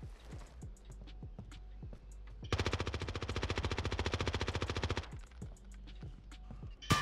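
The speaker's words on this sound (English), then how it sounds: "I just randomly shot at the wall" An STG-44 rifle in Call of Duty: Warzone fires one sustained rapid burst of about two and a half seconds, loud and evenly rhythmic, set between quieter footsteps and clicks, with no talk.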